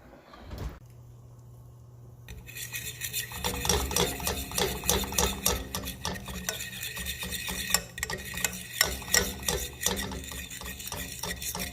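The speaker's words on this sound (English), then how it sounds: "There's the gravy. And we're just going to continue to stir it" A spoon stirs gravy in a cooking pan, a steady run of scraping and sloshing strokes starting after a quiet opening and continuing close and rhythmic to the end, with a low hum underneath.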